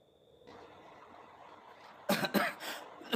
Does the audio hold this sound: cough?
yes